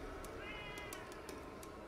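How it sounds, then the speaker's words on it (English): A cat meows in a Catwoman scene from an animated Batman film: one drawn-out, fairly faint meow rises and falls over a steady background hiss. "And she got a little cat there."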